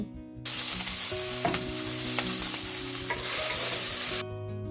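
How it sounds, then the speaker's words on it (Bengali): Chopped onion sizzles in hot oil in a wok, a steady close frying hiss with occasional stirring scrapes, heard alone without talk. "এবার কড়াইতে তেল দিয়ে ওর মধ্যে পেঁয়াজ কুচি দিয়ে দেব"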